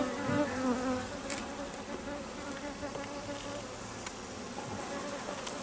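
Honeybees buzz steadily during the transfer of nucleus colonies into hives, with some bees dead. The dense, continuous hum of a crowd of insects stays close and even, with a few louder individual passes and no talk.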